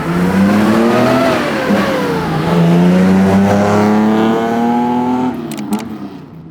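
A Nissan Skyline Hakosuka GT-R-spec coupe, an old car without power steering, revs loudly up and down as it pulls away nearby, its engine note climbing and falling through the gears before easing off.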